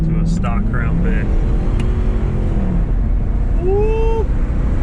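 A stock Ford Crown Victoria drives on a race track, its engine a steady, loud drone inside the cabin while people talk over it and an engine note rises briefly near the end.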